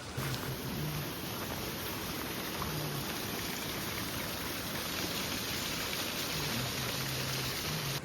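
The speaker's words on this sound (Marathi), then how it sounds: "पाऊस चालूच आहे थोडाफार कमी झाला आहे फक्त" Steady, even wash of monsoon rain falling across a wide hill-station area in Jawhar, a constant soft roar with no voices.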